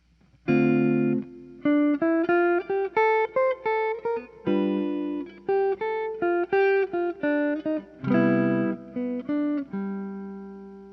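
A clean electric guitar plays a few sustained jazz ii-V-I chords, then a quick single-note melodic line weaving between them, close and clear.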